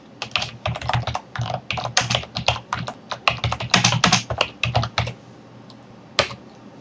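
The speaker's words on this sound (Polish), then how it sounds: "Wstawiamy kursor i wpisujemy informację" Quick, uneven bursts of keystrokes on a computer keyboard, close and clear, with short pauses between runs and a single stray tap after a brief gap near the end.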